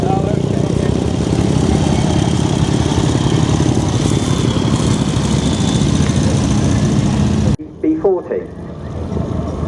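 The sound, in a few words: 1967 BSA WD B40 military motorcycle engine running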